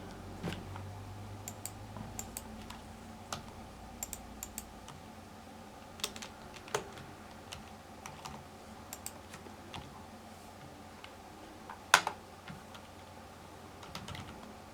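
Computer keyboard being typed on in short irregular bursts of quiet clicks and taps, with one sharper keystroke near the end, over a faint room hum and no speech.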